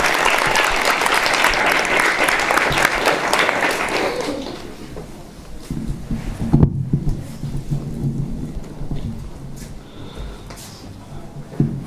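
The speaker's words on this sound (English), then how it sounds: "A round of applause." Warm audience applause for a speaker at a morning gathering, full and loud for about four seconds, then tapering into scattered claps and low murmuring before a voice begins.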